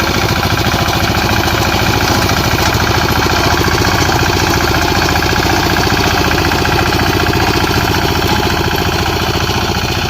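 A small petrol-engined wheat harvesting machine runs in a field, its loud, close, rapid knocking chatter holding steady without a break and with no talk.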